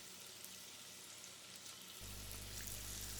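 Marinated chicken pieces for butter chicken frying in hot oil and butter in a pan: a steady close sizzle that thickens and grows louder partway through as the pieces hit the fat.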